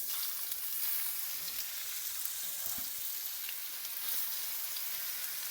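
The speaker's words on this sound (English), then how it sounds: "we're going to get started browning our beef" Beef browning in vegetable oil in a pan gives a continuous bright sizzle at close range, even and unbroken, with a few faint clicks and no voices.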